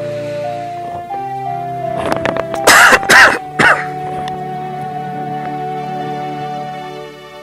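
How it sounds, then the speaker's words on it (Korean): Several harsh coughs burst out in a tight cluster midway, loud and close, over a steady droning music bed from Zelda: Ocarina of Time gameplay. "기침이 계속 나네요"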